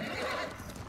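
A quick patter of horse hooves clip-clops briefly in the video game Ghost of Tsushima, fairly faint, with a soft whinny-like tone mixed in.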